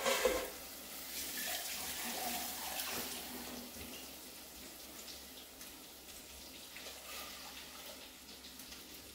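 Ground chili-coriander paste and water poured into a pan of fish curry, a steady splashing, trickling pour with a louder start that settles into a soft continuous flow.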